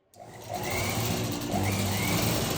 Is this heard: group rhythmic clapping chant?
no